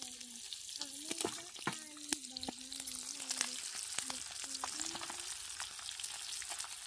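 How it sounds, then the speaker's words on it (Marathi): Fish crackle and hiss as they deep-fry in oil until crisp, cooked outdoors beside a river. The frying is continuous and fairly close, and a voice talks intermittently over it. "इतक्या झाल्या तांबड्या तळून, मस्त कडक कडक."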